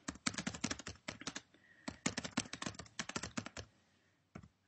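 Fingers type on a computer keyboard in quick, uneven bursts of crisp key taps, fairly close but quiet, with short pauses between runs.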